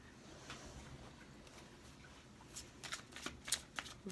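Tarot cards being shuffled by hand: quiet, soft riffling and flicking bursts, sparse at first and then coming in a quicker cluster toward the end, close but faint.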